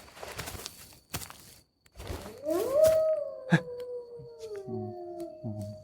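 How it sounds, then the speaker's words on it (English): A long rising then sustained howl like a coyote, fairly close, after some brief rustling and thumps, with a lower tone wavering beneath it. "there's coyotes up here"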